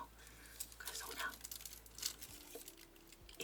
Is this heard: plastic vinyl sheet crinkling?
yes